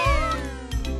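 A cat gives a loud, close, drawn-out meow with a falling pitch, followed by a second shorter meow.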